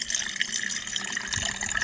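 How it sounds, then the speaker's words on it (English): Melted snow water is poured from one container into another, making a continuous splashing, trickling stream at close range with no speech over it. "I'll quickly transfer this water over."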